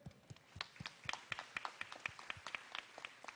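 Church congregation applause during a worship service, a quiet, slightly distant patter of many hands with individual claps standing out in a loose, uneven rhythm.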